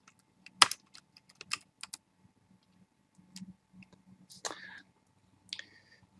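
Scattered clicks and clacks of computer keyboard keys being tapped, uneven and close, with pauses between short bursts and a faint hum underneath.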